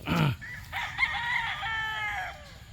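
A rooster gives one loud, close crow with a rising, drawn-out call lasting a couple of seconds, heard alone.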